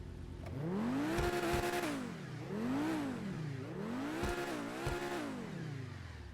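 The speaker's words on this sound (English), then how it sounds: "I just wanted to hear it rev." A Pegassi Torero XO supercar in GTA 5 revs repeatedly, its engine note rising and falling in several smooth sweeps, moderately loud with no talk.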